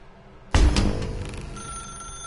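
A telephone in The Stanley Parable video game starts with a sudden loud burst of bright, rattling ringing that fades into a softer lingering tone over about two seconds, with no one talking.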